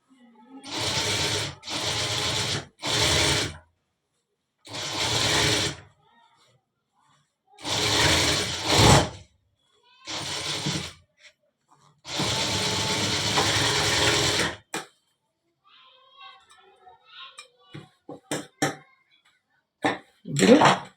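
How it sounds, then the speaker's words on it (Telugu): Sewing machine running in repeated bursts while double stitching a full-sleeve shirt, each run lasting one to two seconds with pauses between, followed by lighter clicks and handling noises near the end. "double stitching వేసేయాలన్నమాట"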